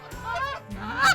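Late-season geese honk loudly in two close calls as a flock drops into decoys on a hunt.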